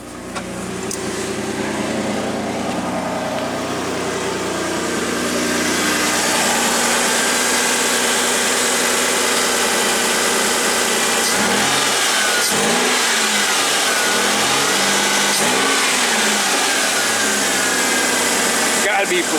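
A 3rd gen Toyota 4Runner engine with a performance chip installed, running loud and close with a steady idle that climbs into a sustained high rev, then several short blips and rises near the end.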